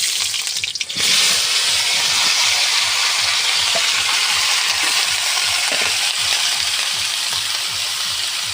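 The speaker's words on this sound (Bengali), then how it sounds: "এবারে লাউগুলো ভেজে নেব। আলু ভাজা তেলেতেই দিয়ে দেব।" Bottle gourd pieces dropped into hot oil left from frying potatoes, a loud burst of steady hissing sizzle that starts abruptly and continues evenly with faint stirring, no voices.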